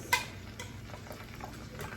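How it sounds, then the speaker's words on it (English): A spoon stirs mac and cheese mix in a pot on the stove, making soft, quiet scraping and clicking sounds. A sharper clink comes near the start, then light, irregular taps follow with no talking. "And stir, stir,"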